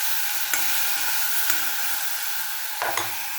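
Mookirattai greens being sautéed in a pan, a steady close sizzle with a few brief scraping stirs of a utensil.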